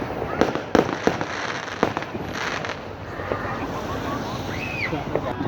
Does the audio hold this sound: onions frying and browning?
no